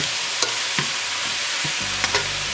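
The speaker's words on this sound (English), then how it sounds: "I'm gonna stir that in there." Ingredients are stirred in a frying pan while making a taco salad, with a few short scraping strokes over a low, steady sizzle and no talking.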